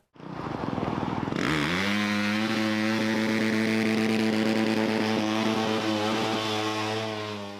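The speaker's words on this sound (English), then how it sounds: "you're tapping the rev limiter, with the throttle" A motorcycle engine starts and climbs to a high, buzzing rev held near the limiter, loud and close, with a rapid stuttering pulse as the throttle is worked for several seconds.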